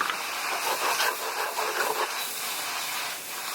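Mushrooms and broccoli sautéing in a hot pan give off a steady, close sizzling hiss that holds at an even level throughout, with no talking.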